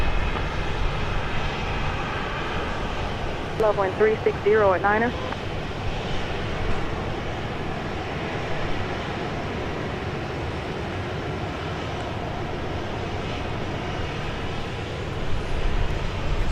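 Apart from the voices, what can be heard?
airplane taking off at Dallas Love Field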